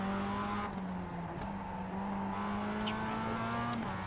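Production race cars in the iRacing sim lapping together. An engine holds a steady droning note, then steps through a downshift, with other cars humming faintly in the background and no talk.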